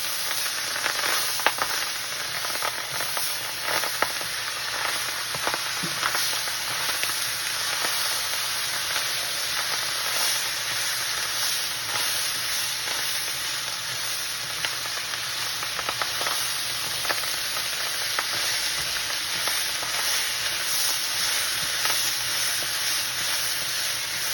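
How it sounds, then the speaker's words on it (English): Rice being stirred in a pot for molokhia gives a constant close sizzle and hiss, with soft scraping strokes running through it and no talking. "Now she added the full 3 cups of rice. Now she's stirring."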